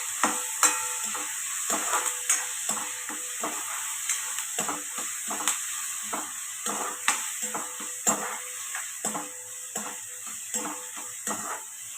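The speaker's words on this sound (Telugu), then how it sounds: "కరివేపాకు వేసి మగ్గించుకోవాలి." Tomato pieces and curry leaves softening in a pan for a cabbage dish: a steady close sizzle with repeated scraping stirs of a spoon against the pan, evenly spaced throughout.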